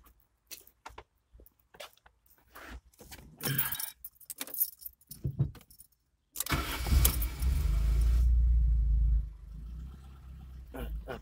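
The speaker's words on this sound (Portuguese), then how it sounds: "Eu vou te fazer escutar o motor" Fiat Tipo 1.6 DGT 8V engine cranks and starts after jangling keys, then idles with a loud steady rumble close by, settling lower toward the end.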